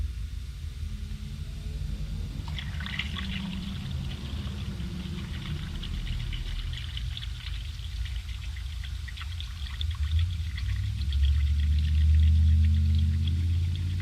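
Coolant being poured into the cooling system of a 2001 BMW during water pump, thermostat housing and radiator replacement: a steady close trickle and gurgle over low engine-bay rumble, growing louder and fuller toward the end.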